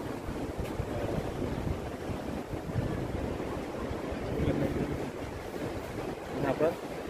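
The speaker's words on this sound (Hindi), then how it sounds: "आप देखिए कैसे ये समुद्र आपका लहरा रहा है। देखिए पानी समुद्र का," Sea waves wash against the shore near Tithal, Gujarat as a continuous rushing surf mixed with wind buffeting the microphone, with faint voices in the background.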